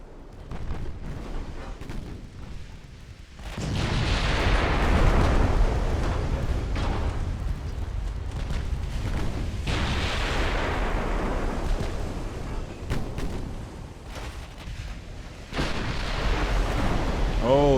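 Warship artillery fire and an ammunition detonation in the naval game Ultimate Admiral: Dreadnoughts, with heavy booming blasts followed by long rumbling roars, loud and repeated over several seconds.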